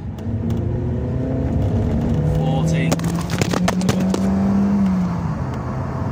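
A Mazda6 with a freshly repaired engine accelerating on a road, a steady engine drone with a rising tone and some clicks and knocks, heard from inside the car while a person speaks briefly.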